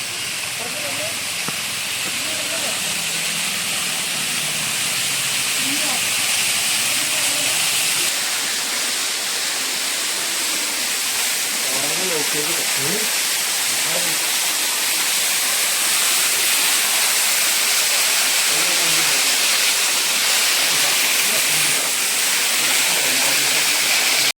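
A waterfall near Manjoor hill station by Ooty, a steady loud rushing hiss of falling water that fills the whole clip, with voices faintly underneath at times.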